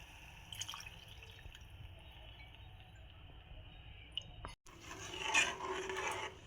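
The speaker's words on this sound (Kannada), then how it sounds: "ಇದು ಚಂದಾಗ ಮಿಕ್ಸ್ ಆದಮೇಲೆ ನೀರು ಹಾಕ್ಕೊಳತ್ತೇನೆ ನೋಡ್ರಿ" Water pours into a pressure cooker holding mixed vegetable pulao rice, a soft liquid trickle and splash at close range that grows louder toward the end.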